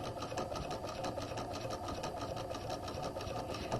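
A sewing machine runs in one continuous, steady whir while back stitching a straight stitch close to the fabric edge of an elastic waistline, loud and close with no pauses.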